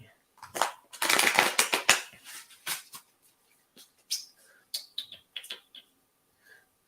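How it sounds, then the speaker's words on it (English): Deck of cards shuffled by hand during a calm meditation session, a dense burst of riffling flutter followed by scattered lighter card taps and flicks, close and fairly quiet. "Let's shuffle my cards."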